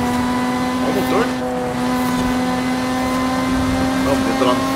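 A Lotus Eleven in Forza Horizon 5 holds a steady engine drone with a strong sustained tone and faint rises, loud and continuous throughout.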